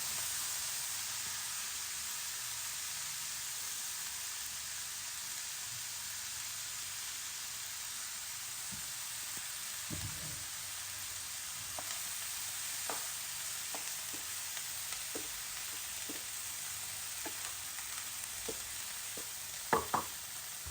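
Stirring and frying food in a pan, with drumstick pieces and beans added, a steady faint sizzle throughout and a few light scraping clicks of the spoon later on, no talking.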